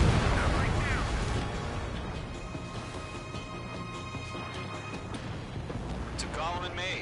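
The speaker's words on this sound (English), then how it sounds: "Bomber hit by a missile." In the Ace Combat 7 flight game, a missile strikes a bomber, setting off a loud, rumbling explosion that fades into a sustained roar of fire and jet noise.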